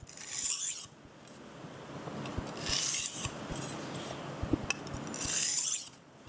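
A knife blade is drawn back and forth over a sharpening stone to work the burr down, giving three long hissing rasps with softer scraping between them, close up with no voices.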